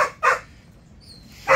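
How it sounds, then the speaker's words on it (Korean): Dog barking indoors on a rainy day, two short sharp barks a second apart with a faint high tone between, fairly close and alone without talk. "왜 이렇게 짖어요?"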